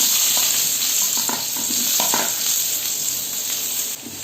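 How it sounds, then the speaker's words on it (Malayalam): Sliced onions sizzle steadily in a hot pan while a spoon scrapes and stirs them in a few short strokes, close and clear with no voices. "ഇനി നമുക്ക് ഇതിലോട്ട് സവാള ഇട്ട് കൊടുക്കാം."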